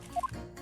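Wine pours from a bottle in Great Ace Attorney 2, a brief faint liquid splash with a couple of small drip-like plinks.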